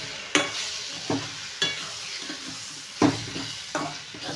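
Mustard seeds and urad dal temper in hot sesame oil, a steady close sizzle broken by sharp, regular stirring scrapes in the pan, with no one talking.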